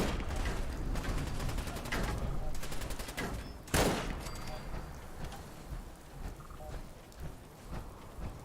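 Video game gunfire rattles in rapid, continuous bursts, with one louder blast in the middle and dense crackling throughout, moderately distant and fairly quiet, while a voice talks over it.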